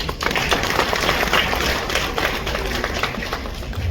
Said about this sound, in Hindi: आप अपने लिए एक बार तालियां बजाएं।